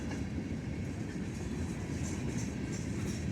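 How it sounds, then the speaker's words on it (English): A train passes on railroad tracks beside a hiking trail in the woods, a steady loud rumble of cars rolling by with rhythmic wheel noise throughout. "Love a good train."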